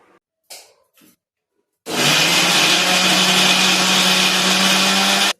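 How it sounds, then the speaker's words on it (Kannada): Electric kitchen mixer grinder whirring at full speed as it blends cooked, cooled dates into a paste, starting abruptly after a few soft handling knocks and running loud and steady to the end. "ಈಗ ಮಿಕ್ಸಿಗೆ ಹಾಕಿ ಪೇಸ್ಟ್ ಮಾಡುವ"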